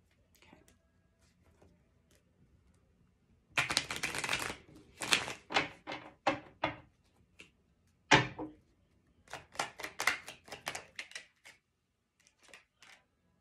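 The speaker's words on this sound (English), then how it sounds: "let's just shuffle" Tarot cards are shuffled close by in quick papery riffles and taps, several short bursts separated by pauses.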